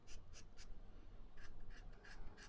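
Titanium-nib fountain pen scratching across paper, a few close, dry stroke bursts in an uneven rhythm, slightly rough and scratchy, alone with no talking.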